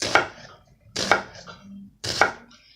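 Three crisp knife strokes chop onions into little squares on a cutting board, evenly spaced about a second apart, close and clear with no talking.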